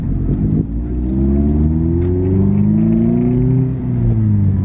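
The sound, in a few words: 2016 Mazda Miata driving around a parking lot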